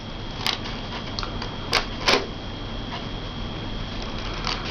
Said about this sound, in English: cut along your lines to get rid of your whites